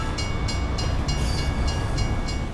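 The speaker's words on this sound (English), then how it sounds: "The anticipation of battle combined with the hazardous moving trains creates a great opening clash" Moving trains on a Team Fortress 2 map rumble past in a steady, loud rolling roar with rhythmic clacking of wheels over rail joints, continuous throughout with no speech.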